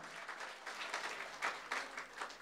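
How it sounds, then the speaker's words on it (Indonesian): A congregation at a church service applauds in a lively burst of many hands clapping, with rhythmic surges of sharper claps. It is faint and somewhat distant, with no speech over it. "Beri tepuk tangan yang meriah"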